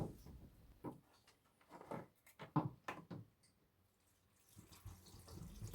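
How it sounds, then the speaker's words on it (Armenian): Cold tap water runs over green beans in a kitchen, in short bursts of splashing with pauses, close and quiet, then a steadier pour toward the end. "Հիմա լոբու վրա կլցնեմ սովորական սառը ջուր։"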